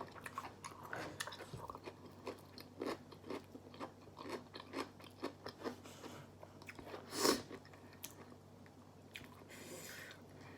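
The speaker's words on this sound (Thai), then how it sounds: "อยากให้ได้ยินเสียงกัดอันนี้เถอะเด้อ" Crunchy vegetables and pork rinds dipped in chili sauce are bitten and chewed close up, with sharp repeated crunches at an irregular rhythm, one especially loud snap, and moist chewing between bites.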